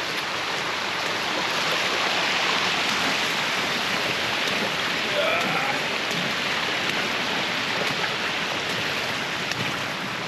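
Rushing water at Sailors Falls on a creek, a steady, dense hiss of falling and splashing water that holds constant and fairly loud throughout, heard alone with no voices.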